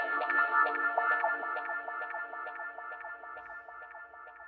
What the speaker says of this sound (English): I added a wah guitar too.